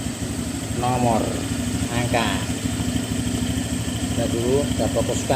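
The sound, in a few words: motorcycle engine idling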